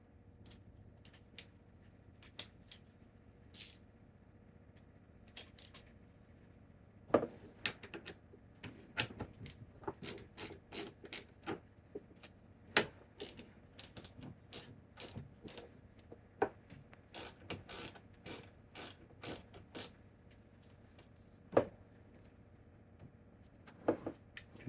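A ratchet clicks in sparse, irregular bursts while loosening bolts on a C4 Corvette pop-up headlight, with sharp metallic ticks and short pauses, fairly quiet and close, with no voices.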